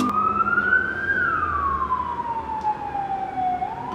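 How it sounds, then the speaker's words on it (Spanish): An emergency vehicle siren wails alone, its pitch sliding up then slowly down in a long continuous sweep, loud and steady with faint traffic rumble underneath. "puta sirena."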